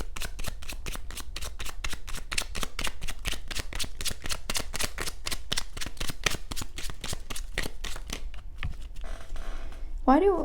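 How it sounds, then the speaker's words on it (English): Tarot cards being shuffled, some dropping to the floor, with a long run of rapid, evenly spaced crisp riffling flicks, close and steady, ending in a brief scatter as a voice begins. "Like every single card is like going on the floor."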